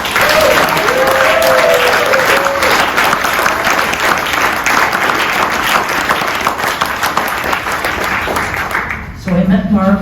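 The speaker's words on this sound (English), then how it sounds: "So let's have a hearty round of applause." A crowd at an 80th birthday celebration breaks into loud, sustained applause that fills nearly ten seconds, fading near the end as a voice begins speaking.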